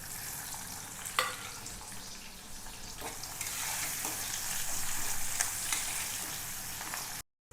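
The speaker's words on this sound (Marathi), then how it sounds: "आता कढईमध्ये मी थोडे तेल टाकले, त्यामध्ये थोडी जिरे टाकणार आहोत, आणि इथे थोडा चिरलेला कांदा टाकणार आहे" Cumin seeds and chopped onion fry in oil in a wok, with a steady close sizzle and occasional stirring clinks that swell in the middle before cutting off abruptly.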